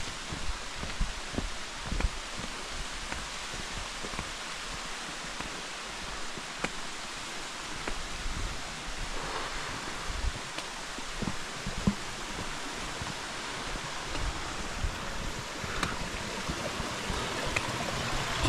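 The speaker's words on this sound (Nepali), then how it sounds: "in the middle of no way अचानक पानी आयो" A mountain stream on a trekking trail between Chhomrong and Dovan flows in a steady broadband rush, constant and fairly distant, with faint rustling over it.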